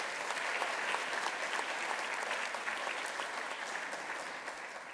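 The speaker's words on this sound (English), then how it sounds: "How about a round of applause for Mr." Audience members at a school staff award ceremony clap in a full, steady round of applause that tapers gently near the end, with no speech heard.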